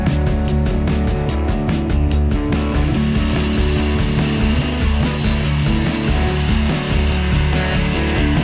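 A saw cuts through a quarter-inch piece of wood for a workbench. It begins with a few quick rhythmic strokes, then turns into a loud, continuous rasping cut close by.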